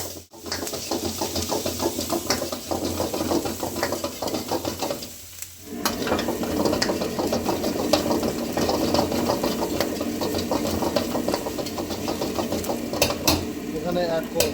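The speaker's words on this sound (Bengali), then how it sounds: "এটা ভালো করে সতে করে নেব।" Chopped ginger, garlic, diced green chili and onion sizzle in a pan while a spatula scrapes and stirs steadily, a continuous close frying hiss with clattering strokes and occasional speech.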